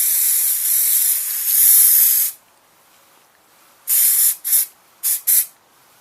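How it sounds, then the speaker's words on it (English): A Halford's primer spray can hisses in one long steady burst, then several short sharp puffs after a pause, close and loud with nothing else heard. "now for a quick spray with the old Halford's primer"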